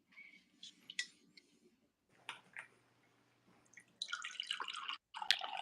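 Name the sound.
coffee being poured into a cup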